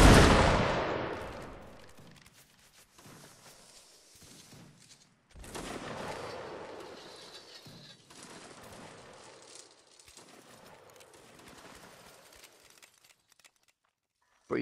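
Line infantry musket volley in Napoleonic Wars, a loud crackling burst of many shots at once that decays into a long rolling rumble, followed by a second, fainter volley and scattered distant firing.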